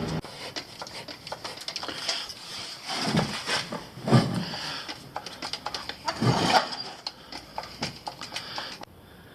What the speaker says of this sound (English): I'm gonna use the jack because it's safer.